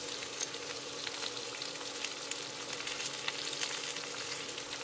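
Cut potatoes fry in a pan for an Indian-style potato and pumpkin curry, giving a steady close hiss with faint crackles and no talking.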